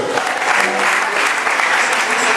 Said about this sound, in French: tes acclamations sont un peu timides